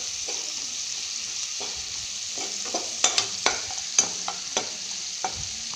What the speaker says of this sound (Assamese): ইয়াতে মেগী মছলাখিনি দি এইখিনি লৰাই থাকিম অকণমান সময়।